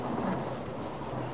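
Rain falling outside near a harbour, a steady dense hiss with a low rumbling wash throughout, no voices.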